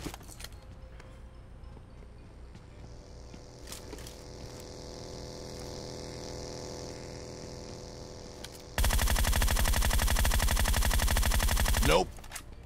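Gunfire in the video game PUBG: a loud, close burst of rapid automatic fire lasting about three seconds, following a stretch of droning engine-like hum with a few faint, scattered shots.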